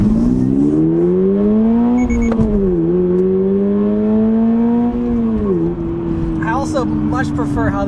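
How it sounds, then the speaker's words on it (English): A 2022 Subaru BRZ sports car engine, manual transmission, drones loudly, its pitch rising and dipping as the revs climb and shift, with brief chirps near the end. "Much prefer how this engine sounds now"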